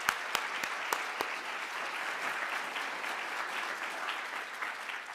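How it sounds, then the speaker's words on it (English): An audience at a legal session on citizenship and immigration law applauds, opening with a few crisp nearby claps before settling into a soft, even, continuous wash of clapping, fairly quiet overall. "So let's give her a great round of applause."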